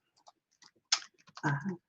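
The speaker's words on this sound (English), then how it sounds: "I'm typing it as I say it." Short bursts of keystrokes clatter on a computer keyboard, a handful of quiet taps followed by a quicker, louder flurry, heard close with no voices.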